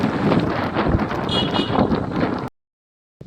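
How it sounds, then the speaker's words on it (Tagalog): Strong mountain wind during a group bike ride buffets the microphone in loud, gusty rumbling bursts, then cuts abruptly to silence before briefly returning. "Ang lakas ng hangin."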